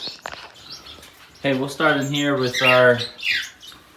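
Gouldian finches in white breeding cages give thin chirps and squawky calls in the background, while someone talks over them in the foreground.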